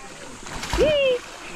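A person jumps into water at an outdoor 18th birthday gathering in Tanay, Rizal, landing in one short splash amid cheers and shouting voices.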